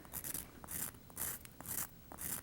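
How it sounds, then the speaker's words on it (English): Coarse-grit sanding board rubbed along the edges of a resin jewelry piece, giving five short rasping strokes in a regular back-and-forth rhythm, close and fairly quiet, with no talking. "I'll go ahead and just sand around the edges"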